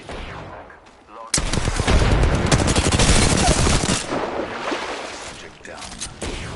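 Rapid automatic gunfire from a firefight in the video game Apex Legends, loud and sustained bursts after a quieter opening second, with a voice faintly under the shots.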